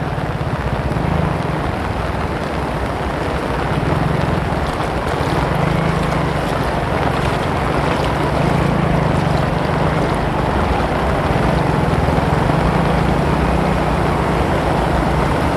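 A boat engine drones steadily on open water, loud and continuous, with wind buffeting the microphone and the wash of waves beneath it throughout, no voices.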